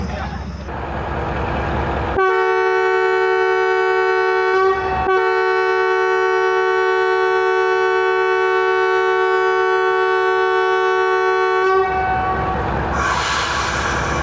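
Awam Express sounding a long, loud, sustained multi-tone horn for about ten seconds amid the rumble of the passing train, with a short break partway through and someone speaking briefly before it.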